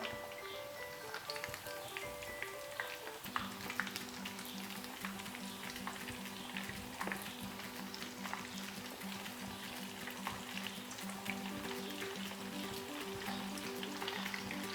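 Chicken tenders frying in hot oil over a medium flame, a steady continuous sizzle and crackle throughout, with a faint tonal hum underneath and no talking.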